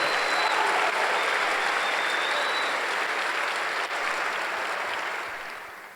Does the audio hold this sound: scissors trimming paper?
no